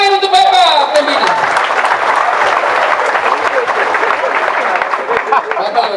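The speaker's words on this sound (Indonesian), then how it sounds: "Tepuk tangan untuk Bapak pembina." Audience applause at a Christian revival service inside Abepura Class IIA prison, Papua, a dense steady clapping crowd that swells in right after a voice and runs loud and continuous throughout.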